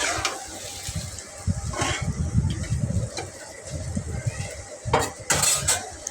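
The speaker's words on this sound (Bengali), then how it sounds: "মাংসটা ভালো মতো নেড়ে ছেড়ে দিচ্ছি" Meat being stirred in a cooking pot, with irregular scraping and clinking of a utensil against the metal and a soft sizzle underneath, close and moderately loud.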